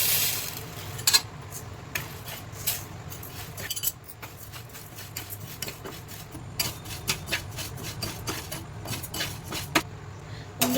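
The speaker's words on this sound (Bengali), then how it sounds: "আমার তাওয়া গরম হয়ে গেছে, আমি এবার চালগুলো ভেজে নেব।" Rice is dry-roasted on a hot tawa, with faint, irregular scraping and light clinks as it is stirred, the quiet sounds scattered close by.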